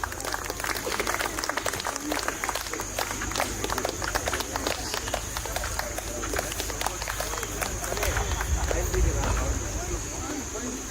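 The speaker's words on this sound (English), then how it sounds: "can we clap for the dignitaries joining them?" An audience at an 80th birthday celebration claps steadily as dignitaries come onto the stage, a continuous wash of many hands that holds for the whole stretch under a faint background hum.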